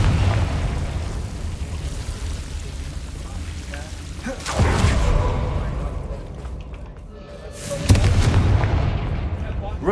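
Confringo spell blasts in the Hogwarts Legacy video game, two loud booming explosions with rumbling tails over a dense background of game noise.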